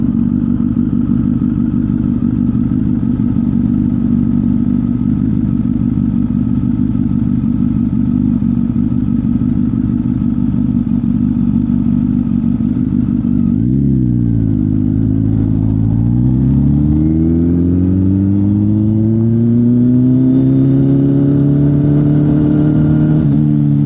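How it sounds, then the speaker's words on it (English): Constant loud engine drone from the rider's motorcycle, then a vehicle with a LiDAR unit on its roof passes close by, its pitch dipping and then climbing away as it goes past. "What was that vehicle? Zensiac. Had like LiDAR or something on the top."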